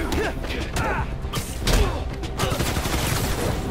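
Gunfire rattles in a Marvel's Spider-Man: Miles Morales battle, rapid bursts of shots with thumps and mechanical clatter, loud and dense, with a voice briefly heard over it.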